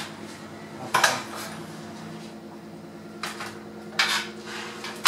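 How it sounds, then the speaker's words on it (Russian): Pork spareribs set down on a metal baking tray, a few separate clanks and rattles of metal spaced a second or two apart over a quiet background hum. "Теперь мы кладем ребра на противень."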